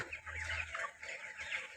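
A three-legged broiler chicken clucking nearby in short, quick bursts, with a couple of brief clucking phrases and little else around it.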